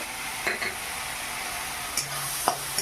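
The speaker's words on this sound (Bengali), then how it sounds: "নেড়ে চেড়ে এটা মশলাটা আমি তৈরি করে নেব।" Ground spices, cumin and garam masala, frying in a pan, a soft steady sizzle with a few light scrapes and taps of a stirring utensil, fairly quiet and without talking.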